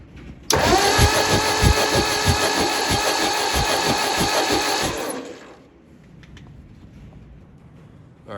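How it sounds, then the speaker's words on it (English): A Ford 961 Powermaster tractor engine cranks over steadily for about four and a half seconds, a loud rhythmic starter-driven chugging with regular compression pulses that never catches, then stops, leaving quiet background. "Here, I'll crank the engine over."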